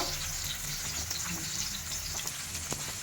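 Chicken chaap frying one piece at a time in a small pan over medium heat, a continuous close sizzle and crackle with small pops and faint stirring sounds throughout.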